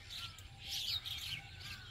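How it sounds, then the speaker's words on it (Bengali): A flock of mynas calls before heading home at a rain-soaked village on the Brahmaputra bank, a busy overlapping chatter of chirps and squawks at moderate distance, steady for about two seconds with no voices. "ঘরে ফেরার আগে শালিক দলের মিটিং বসেছে।"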